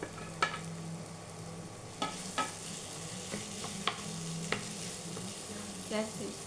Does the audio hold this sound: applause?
no